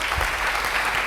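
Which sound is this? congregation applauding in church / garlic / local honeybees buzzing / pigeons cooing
congregation applauding in church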